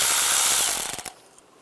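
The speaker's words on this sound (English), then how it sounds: "Using a 10mm socket, take this bolt out." A ratchet with a 10mm socket backs out an ignition coil bolt on a 1996-2002 Toyota 4Runner. It makes a rapid run of close, sharp clicks that slow into a few spaced ticks and then stop.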